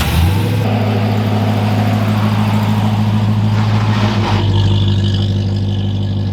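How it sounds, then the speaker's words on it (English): A straight-piped, supercharged 700-horsepower Hellcat V8 in a Jeep Gladiator 6x6 rumbles loud and close, holding a steady deep drone with a brief rise in revs partway through. "a fully straight pipe 700 horsepower Hellcat V8 supercharged"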